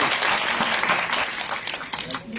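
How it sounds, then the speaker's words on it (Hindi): An audience at a weekly Block Divas public programme in Kandi Rafiabad breaks into applause, a dense burst of clapping that gradually thins and fades toward the end. "तो एक तालियां अपने लिए बजा लीजिए"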